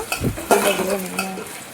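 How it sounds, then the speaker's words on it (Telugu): Small onions and green chillies fry in tempering oil for sambar, a bright crackling sizzle broken by scraping stirs of a utensil against the pan, close and moderately loud. "తాలింపులో వేసుకుని వేయించుకోవాలండి దాంతోపాటు మూడు నాలుగు పచ్చిమిరపకాయలు కూడా వేసుకుని వేయించుకోవాలి"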